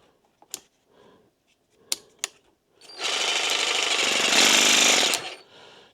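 A cheap Makita-compatible cordless jigsaw with a new blade cutting, a loud buzzing rasp that runs for about two seconds after a few sharp clicks and knocks, then stops abruptly.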